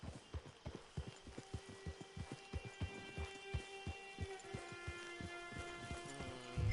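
Horse hooves clip-clop at a steady walking rhythm in the Red Dead Online game, clear and close with only faint background sound.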